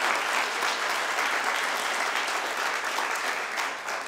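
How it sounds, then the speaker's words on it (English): Steady applause from a crowd at a mayor's news conference, a sustained wash of clapping hands that continues evenly throughout without pause. "please join me in a round of applause for these new employees"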